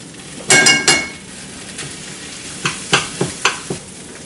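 A utensil stirs sauce in a pan, close and loud. Scraping strokes come first, then a series of sharp clinks against the pan, with no speech.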